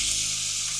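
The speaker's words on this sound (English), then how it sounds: "with about 2 to 3 tablespoons of avocado oil simmering in here" Two to three tablespoons of avocado oil sizzling in a cast iron skillet on medium heat, a steady close hiss with no voices.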